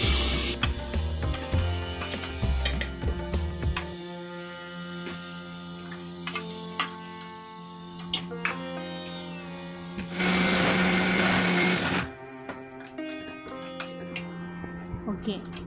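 A kitchen mixer grinder blending grains into fine powder for homemade baby cereal: a single brief, loud whirring burst of about two seconds, set among quieter background sounds.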